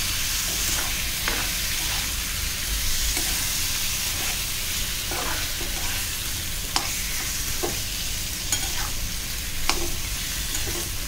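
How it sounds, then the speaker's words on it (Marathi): Mutton being sautéed in a pot over a high gas flame for Malvani mutton rassa, giving a steady close sizzle with occasional scraping stir clicks throughout, no talk. "गॅस मोठा ठेवला आणि मटणाला पाणी सुटेपर्यंत चांगलं परतायचं आहे."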